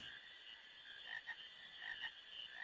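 A frog croaks in the Final Fantasy IX role-playing game, a few short, close croaks repeating at an irregular rhythm over a steady high ambient game hum.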